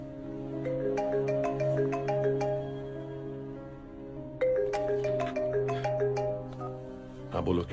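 A melodic phone ringtone plays in repeating chiming phrases, pausing briefly before starting again, with soft voices talking underneath.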